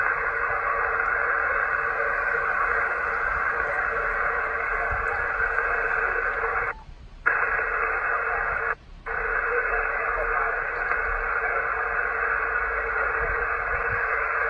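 Hissing HF radio static with a faint, muffled voice signal underneath, steady throughout, cut by two brief dropouts; a Yaesu FT-891 with ATAS-120a antenna operated mobile on a beach, tuned to 14258.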